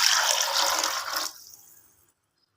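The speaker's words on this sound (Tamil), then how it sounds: "தண்ணி சேர்த்துக்கலாம்." Water pours into a pressure cooker holding rice, a steady splashing rush for about a second that then thins to a faint trickle and stops.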